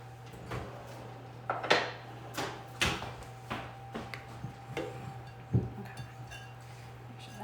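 A spatula knocks and scrapes around a bowl while oat bar batter with apple and cinnamon is mixed, giving irregular close taps and thuds over a faint steady hum.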